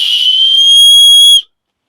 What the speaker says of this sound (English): Emergency whistle.